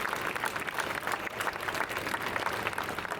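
Audience at a justice rally clapping for themselves, a steady moderate patter of hands from a sizeable crowd that goes on without pause and without talk.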